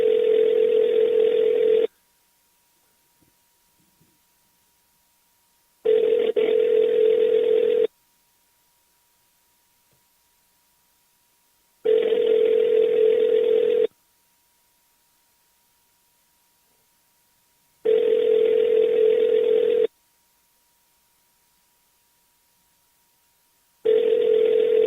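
An outgoing phone call rings repeatedly on the line, each buzzing tone lasting about two seconds and followed by a pause of roughly four seconds, clear and alone with no talk.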